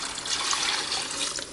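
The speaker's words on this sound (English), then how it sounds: "Now I'm going to cover it with water." A steady, close stream of water pours into a pot over a smoked turkey drumstick for collard greens, a continuous bright splashing rush with no talking.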